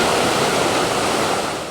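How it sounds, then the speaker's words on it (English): Roaring floodwater of the McKenzie River surges in a steady, loud broadband rush, dense and unbroken like a waterfall, with no voices over it. "A show of roaring water and floating debris on the McKenzie, with the water rising in some areas and flooding in others."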